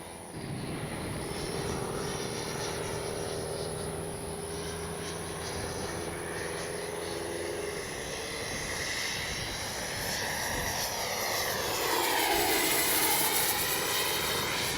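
An ARROWS RC F-15 64mm model jet flies past, its steady ducted-fan whine holding loud and continuous over wind, swelling and shifting in pitch near the end as it passes close.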